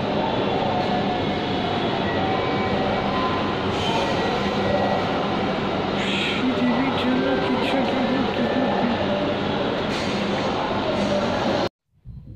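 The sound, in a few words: metro train arriving and stopping at Farmgate station, Dhaka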